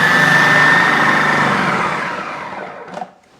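A Magimix Cook Expert food processor grating potatoes runs with a loud motor whir and high whine that winds down and stops, followed by a brief clunk near the end.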